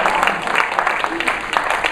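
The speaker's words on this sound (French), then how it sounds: "Vous pouvez applaudir parce qu'elle est bien celle-là." A comedy club audience breaks into sustained applause, dense steady clapping filling the room at close range with no pauses.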